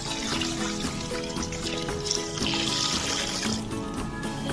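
Water poured from a drum into a large cooking pot holding a whole native chicken, a steady continuous splashing trickle throughout, close and moderately loud.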